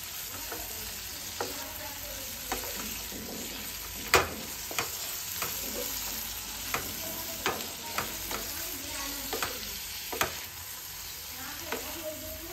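Boiled food being stirred in a frying pan with a spatula, giving repeated scraping clicks and knocks at an uneven pace over a soft, steady sizzle, close up and with no talking.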